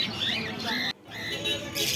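Adult cockatiels, including black and lutino birds, squawk at a busy bird market. Harsh, shrill calls run almost continuously, break for a moment in the middle, then resume loudly up close.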